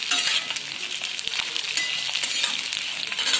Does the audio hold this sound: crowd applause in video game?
no